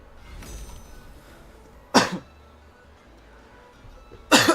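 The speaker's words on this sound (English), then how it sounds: "I'm sorry guys, I have like a cough." Two sharp coughs from a person, one near the two-second mark and another at the very end, loud and close over quiet background.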